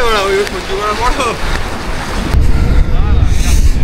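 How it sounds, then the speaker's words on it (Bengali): Water passes underneath the spot where someone stands outdoors, making a close, steady rushing sound mixed with wind buffeting, while a person talks over it. "এখান দিয়ে জল পাস হচ্ছে নিচে দিয়ে, তার আওয়াজ।"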